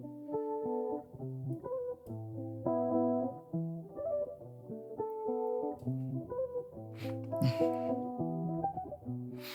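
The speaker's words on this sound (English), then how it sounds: "I started with a nice loop and it just sounds something like this." An Afroswing beat loop plays quietly, with layered synth chords and bass notes moving in a repeating pattern and a brief brighter burst near the end, no voice over it.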